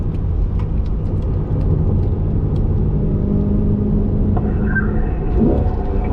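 A Corvette engine roars from inside the car during hot laps on a race track, a loud, constant low rumble mixed with wind and road noise, with a faint squeal near the end and no speech.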